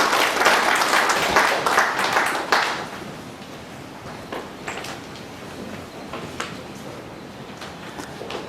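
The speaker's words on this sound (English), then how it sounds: "A round of applause once again, please." An audience at a workshop session on cooperative societies claps loudly at first, and the applause thins and fades into scattered quieter claps.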